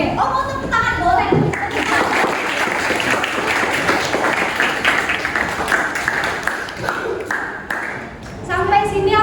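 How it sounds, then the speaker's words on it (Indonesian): Students in a classroom lesson break into clapping, a busy patter of hands heard alongside children's voices and chatter, with a teacher talking at the start and end. "mau tepuk tangan boleh"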